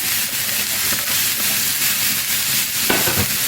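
A large chopped onion sautés with other vegetables in a pan for an egg and vegetable sandwich, giving a loud, continuous sizzle and hiss with faint stirring scrapes throughout.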